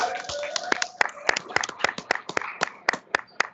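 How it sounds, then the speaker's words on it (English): Sparse, sharp hand claps from a small audience at a young men's dialogue gathering, irregular individual claps close by, with some faint chatter in the background. "A round of applause again"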